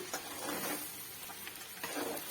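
Clam meat and coconut being stirred in a hot pan, a faint, close scraping and soft sizzle with a few rhythmic strokes of the spoon, no voices.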